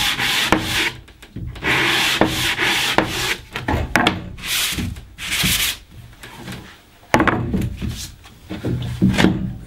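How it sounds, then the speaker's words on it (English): Sandpaper rubs down cut wooden edges before painting, loud close scratchy strokes in irregular bursts with short pauses between passes. "We'll also give the edges a quick rub down as well."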